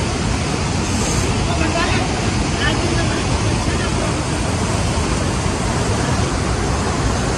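A hidden waterfall near Dumar village in Munsiyari, Uttarakhand, gives a steady, broad rushing roar of falling water that holds constant and close throughout.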